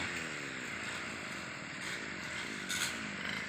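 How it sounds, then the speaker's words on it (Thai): Loud, steady buzzing whine of two two-stroke brush cutters running continuously at high revs, overlapping one another, with a brief scrape near the end. "เครื่องตัดหญ้ามือนี้มีสองเครื่องครับ"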